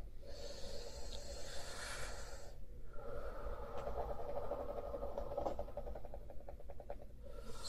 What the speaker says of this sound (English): and you take a deep breath